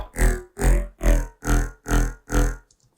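Riddim growl bass from the Vital synth without its thickening processing rack, six evenly spaced gritty, vowel-like wub pulses in a steady rhythm, loud and alone, ending in silence.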